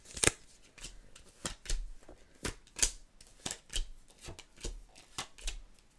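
Playing cards dealt by hand at a candlelit table during a power outage, a series of crisp, close slaps and snaps repeating at an uneven rhythm, each card landing sharply without talk.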